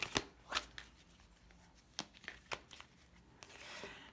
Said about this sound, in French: C'est parti, on pose les 6 cartes.